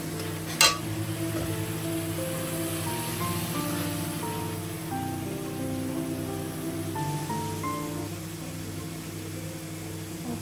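Spices sautéing in a hot pan give off a steady, crackly hiss that runs continuously throughout, joined by a steady low hum and one sharp knock near the start. No one speaks.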